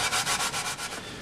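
Maple kitchen cabinets are hand sanded up close, with quick rhythmic back-and-forth rasping strokes that fade slightly toward the end.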